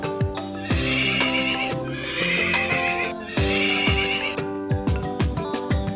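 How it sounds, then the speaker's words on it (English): Horse whinnies layered over a bright children's farm-animal song, with several loud neighs rising above the music between plucked and percussive beats. "But I'm a horse, so all I say is neigh"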